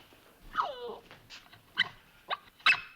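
A dog whimpers in a thin rising-and-falling whine, followed by several short, faint yelps and whines spaced apart, fairly quiet, alone without talking.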